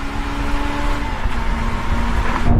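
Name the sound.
Honda sports car engine revving into VTEC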